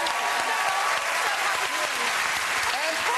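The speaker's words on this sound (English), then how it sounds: "a round of applause for all those drummers." Studio audience on a television chat show applauds a group of drummers, a dense, steady wash of clapping filling the room at full volume without a break.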